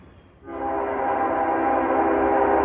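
CSX freight train horn sounding a loud, sustained, steady blast that starts abruptly and holds on at close range.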